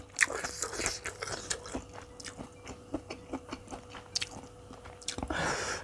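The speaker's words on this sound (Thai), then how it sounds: "ขอเคี้ยวให้หมดก่อนนะคะ" Close, wet chewing and crunching of spicy beef tripe, a steady run of irregular bites and squelches at low volume with no talking.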